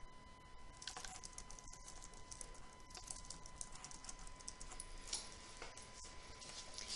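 Soft, quick key clicks from a computer keyboard as text is typed into a free-text box, a steady run of light taps over a faint constant hum, quiet and close with no voices.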